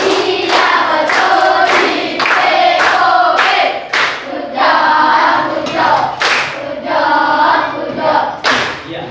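A class of students performs a rhythmic group clap for a student group, loud patterned bursts of synchronized claps separated by short pauses, with a few voices calling out.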